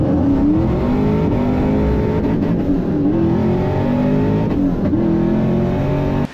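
A supercharged 2001 Pontiac Trans Am launches at a drag strip, its V8 roaring loud and close at sustained high revs with wavering pitch as the tires spin, ending abruptly.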